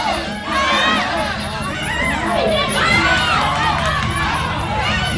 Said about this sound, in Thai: ดูแม่เงาพระจันทร์นะอยู่ที่มุมนะครับเชียร์ลูกสาวอย่างสนุกสุดมันเลย